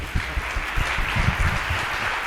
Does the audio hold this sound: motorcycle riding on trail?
no